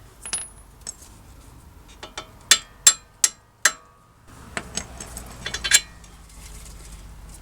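Hammer tapping the strut bolts out of the front hub of a 2013 Toyota Prius V: a series of four sharp metallic clinks about half a second apart, close and bright, followed by quieter scattered knocks and clinks.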